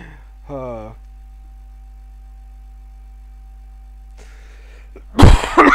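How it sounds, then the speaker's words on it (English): A harsh, loud burst of coughing near the end, after a brief voiced sound and a stretch of near silence with a low hum. "I might start coughing my lungs out again"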